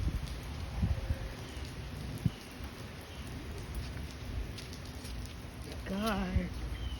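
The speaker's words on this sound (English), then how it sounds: "Man, it's raining everywhere." Heavy rain falls steadily as a dense, even wash beside a lake, with a brief voice and a rising whistle-like tone near the end.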